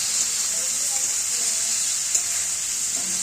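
Prawns frying in a pan with salt and turmeric give a steady, loud sizzle with faint stirring under it and no voices.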